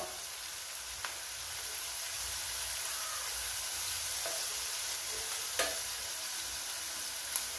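Chopped onion frying with coriander leaves and tomato in a pan makes a steady, close hiss and sizzle, with a few faint stirring clicks and no talk.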